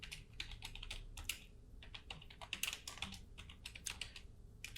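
Rapid typing on a computer keyboard, a close, quiet patter of individual key clicks in uneven bursts with no voices.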